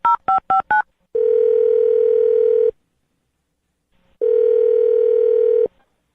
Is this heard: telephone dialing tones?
yes